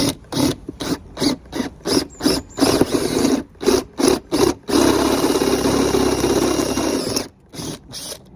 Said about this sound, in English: I'm going to give this little step drill a go